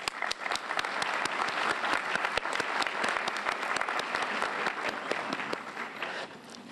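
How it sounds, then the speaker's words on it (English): A hall full of people at a university welcome convocation clapping steadily for several seconds, dense and even, dying down slightly at the end. "Let's give him a round of applause"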